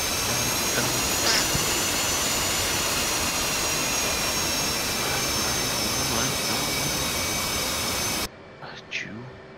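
An F/A-18 Hornet's jet engines roar loudly and steadily through a low pass in the DCS flight simulator, a broad, sustained blast that cuts off abruptly near the end, followed by a brief faint voice.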